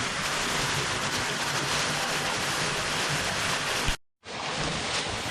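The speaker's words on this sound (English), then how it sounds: "So you like that waterfall right there?" A waterfall in Hoosier National Forest roars as a steady, loud broadband rush of falling water, close by, cutting out briefly near the end before resuming.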